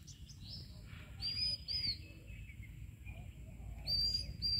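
Small birds chirp in short, bright bursts, a few calls spaced apart over a steady low rumble of background noise.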